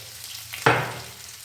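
Spiced paste drops into a pan of reddened frying potatoes for a no-onion white aloo dum, setting off a sudden loud sizzle that swells sharply, then slowly eases into steady frying crackle.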